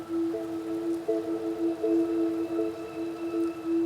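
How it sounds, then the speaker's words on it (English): Heavy rain lashes down in a sideways wind over an open field, a steady broadband hiss with a continuous low tonal hum running beneath it throughout. "It's lashing down with rain, sideways wind"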